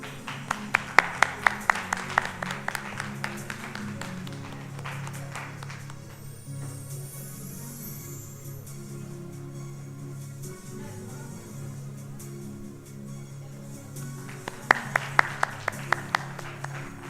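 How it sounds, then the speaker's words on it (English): An audience at an HR conclave applauds a named guest, scattered claps at the start and again near the end with a quieter stretch between. "Can we have a round of applause, please?"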